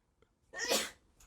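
A single sneeze bursts out in the background of a quiet room, sharp and fairly loud after a brief inhale, then fades into a short breath.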